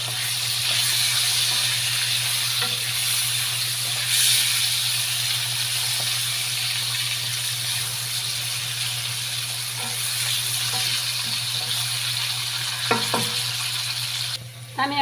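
Potatoes with turmeric frying in a pan, a steady loud sizzle throughout with occasional soft scrapes and clinks of stirring near the end.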